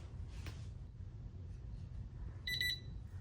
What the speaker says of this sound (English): When it beeps again and flashes green